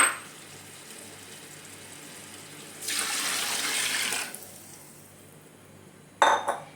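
Water pours into a pot for chicken polao in a home kitchen: a soft start, then a steady rushing stream for over a second, a quiet pause and a final short splash.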